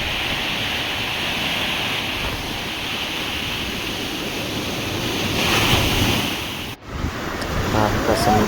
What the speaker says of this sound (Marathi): तुम्ही हा लाटांचा आवाज ऐकत आहात